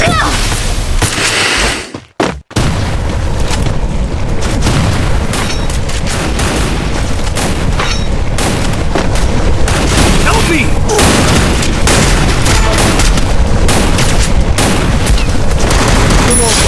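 Grenade explosions and gunfire in a battle-royale style shooter video game: continuous dense rumble of booms and rapid shots, loud and close, with a brief dropout near the start.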